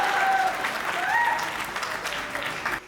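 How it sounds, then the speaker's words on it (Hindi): Audience applause at a Hindi poetry recital, a sustained wash of crowd clapping across the whole stretch, fairly close and fading slightly at the end, with some voices heard over it. "और आप लोगों को तालियां बजानी ही होगी"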